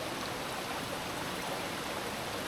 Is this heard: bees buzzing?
no